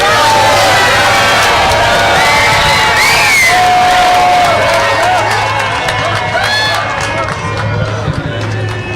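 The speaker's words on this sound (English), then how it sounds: "Obviously, a very loud crowd here with a lot of people across, right next door, cheering him on." Large, loud New York City crowd cheers and whoops for Donald Trump nearby, a steady roar of shouting voices with occasional whistles that stays dense throughout and eases slightly toward the end.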